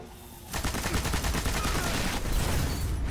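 Rapid gunfire from a weapon in the video game Destiny, a dense burst of repeated shots starting half a second in and running almost continuously to the end, loud and close with no talk.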